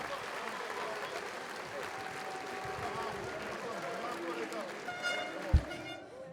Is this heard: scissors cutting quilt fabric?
no